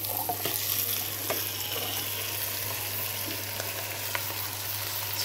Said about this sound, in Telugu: ఉల్లిపాయలు బాగా వేగిపోయి చికెన్ వేసేద్దాం